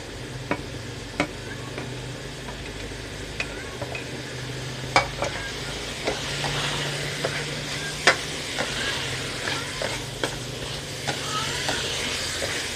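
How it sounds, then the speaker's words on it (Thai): Eggplant stir-fried with minced pork in a pan: a steady sizzle runs throughout, broken by regular clicks and scrapes of a spatula stirring, close and with no talk. "มะเขือยาวลงไปผัดค่ะ"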